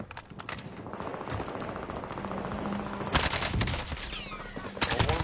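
Rapid gunfire in an online shooter video game, dense bursts and single shots ringing out close over busy game noise, with louder cracks near the end.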